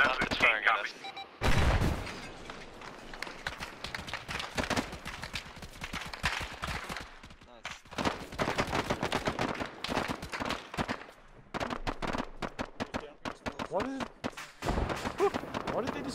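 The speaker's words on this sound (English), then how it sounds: "Is this M113 firing at us?" Gunfire in the ArmA 3 military game, with an M113 armored vehicle firing; repeated sharp bursts and cracks in irregular clusters, some rapid automatic strings, loud and close, with brief gaps.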